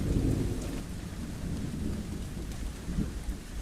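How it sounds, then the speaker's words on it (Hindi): Heavy rain pours outside during a thunderstorm, a drama sound effect for a horror story, with deep rolling thunder rumbling under a steady loud downpour that swells again near the end. "बाहर बहुत तूफान है"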